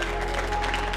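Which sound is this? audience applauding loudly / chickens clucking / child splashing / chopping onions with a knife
audience applauding loudly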